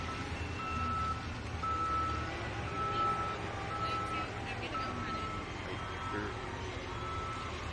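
At a truck pull event, a truck reverses with a steady series of evenly spaced electronic beeps over a low diesel rumble, while an announcer talks over a PA.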